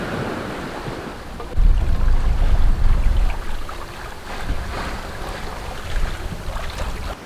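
Sailboat running dead downwind under spinnaker with about 15 knots astern, wind rushing and water sloshing against the hull in a lumpy, confused sea; steady close rumble with louder surges of waves.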